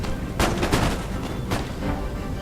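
Musket volleys in the Empire: Total War battle game: a ragged crackle of several shots close together, then a lone later report, each booming with a rumbling tail over a steady background din.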